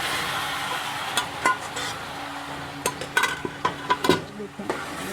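Tenderized beef fries with garlic-ginger paste in a pot for Sindhi biryani, a steady sizzle broken by a run of scraping stirs and metallic taps from a spoon against the pan, close and clear.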